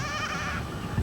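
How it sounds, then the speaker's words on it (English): Goats bleating while grazing with a herder in 1984 Eritrea, a continuous close, fairly loud bleat sustained over the short moment with no talk. "The man's job is to follow the goats as they graze."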